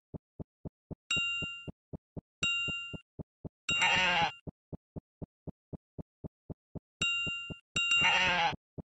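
Cartoon sheep bleating in the Teach Your Monster to Read video game, several short bright bleats spaced apart over a steady ticking rhythm of evenly repeated clicks, with two bleats landing close together near the end.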